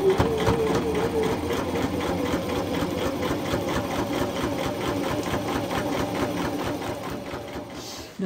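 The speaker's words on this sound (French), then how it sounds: "Je mets le point au plus long et je viens hop, piquer en suivant bien le bord." A sewing machine set to its longest stitch runs continuously along a fabric edge, a steady rapid mechanical whirring and clatter close by, unbroken for several seconds before stopping.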